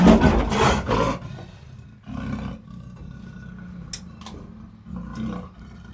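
A captured, agitated leopard gives a loud, close snarling roar in a burst at the start, then quieter rasping snarls and growls follow at intervals.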